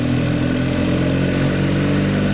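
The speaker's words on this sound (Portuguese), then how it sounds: "esta moto vai depressa e vem a qualquer lado" A BMW R1250 GS motorcycle engine drones steadily and loudly while riding, a constant close rumble with wind noise and no clear revving changes.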